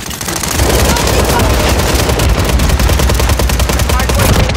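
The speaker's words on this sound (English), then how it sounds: "Friendly remote turret deployed." Sustained rapid fire from a remote turret in Call of Duty MW3 Zombies, loud and continuous automatic shots without pause for several seconds.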